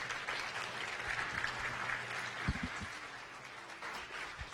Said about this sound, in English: Let's give Dr. Jones a round of applause.